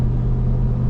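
A 2025 Ford F-250 Tremor with a 7.3-litre gas engine pulls onto the highway in sixth gear around 3,000 RPM, a steady low droning rumble heard from inside the cab.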